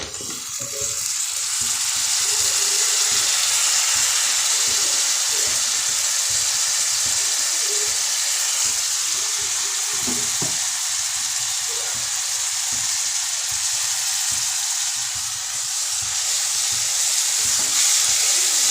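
Tomatoes sautéing in a pan for a village-style pulicha keerai kadaiyal, a loud constant sizzle and hiss with rhythmic stirring and scraping throughout, no talk.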